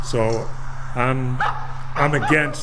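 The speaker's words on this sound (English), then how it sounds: "you can actually hear the dogs barking" Dogs at a neighbouring grooming business, heard from a recording, give a few drawn-out yelping barks, fairly loud, mixed with a person speaking.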